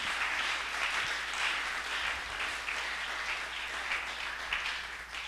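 A church congregation applauds in a continuous, even wash of clapping with a faint cheering edge, sustained at moderate loudness throughout.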